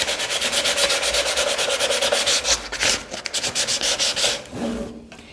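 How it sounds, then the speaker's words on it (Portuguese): Sandpaper rubbing back and forth over a painted MDF wooden box, a close, steady rhythmic scratching of quick strokes that eases off near the end. "se você perceber que a peça tá com algumas partes aqui com fiapos, você pode passar a lixa"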